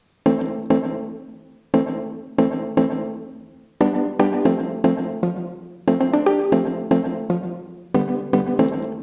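Mallet-like synth riff programmed in Logic Pro's Alchemy, bright plucked notes with quick decay struck in short repeating phrases, the pattern cycling several times with brief gaps between groups.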